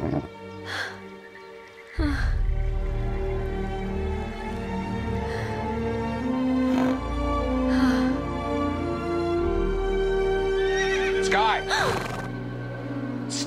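A horse in the game Star Stable: Mistfall gives a short, wavering whinny near the end, set against steady in-game music that plays throughout.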